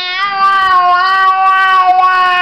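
A high, sustained meow-like cry with rich harmonics, voiced by a child imitating a cat, loud and close for about two seconds.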